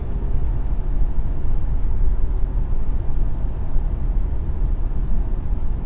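A Mercedes-Benz W126 500 SE with a V8 cruises on an evening drive, its steady low engine and road rumble holding a constant level throughout, with no talk.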